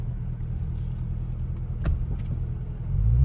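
A car idling with its exhaust valves open in dynamic mode, a low steady rumble close by, swelling into a deeper, louder growl in the final moments.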